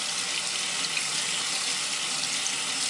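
A tap runs steadily, a constant close hiss of water falling into a sink, with no break or talk over it.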